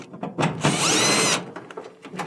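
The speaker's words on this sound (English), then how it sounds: "And then you want to take your blower housing, remove the screws for that." A power drill backs a screw out of a Whirlpool dryer's blower housing, a single short whine of under a second amid nearby clicks and handling noise.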